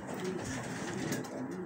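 A pouter pigeon coos steadily and fairly close, calling to a female, a low rolling, throaty call repeating over soft background noise.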